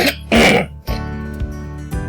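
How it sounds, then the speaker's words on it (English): A man clears his throat loudly and close up, a harsh rasping burst followed by a brief second hack, then a few quieter vocal sounds trailing off. "let me clear my throat"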